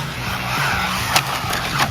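An MJX 14211 1/14 scale RC car drives close by with a continuous buzzing motor whine and brief scuffing tire squeals as it slides through a turn.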